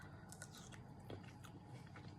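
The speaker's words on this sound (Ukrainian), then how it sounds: "Хрумтить" Soft, close crunching bites into juicy Black Crystal seedless grapes, a few quiet crisp snaps against a faint steady background.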